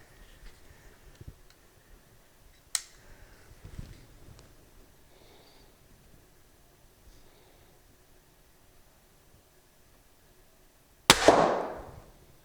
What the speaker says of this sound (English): I thought I'd put a shot through the chronograph here